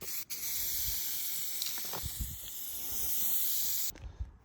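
A can of black spray paint hisses in a steady, fairly quiet stream for several seconds outdoors, with a few soft knocks and clicks around it before the spray cuts off near the end.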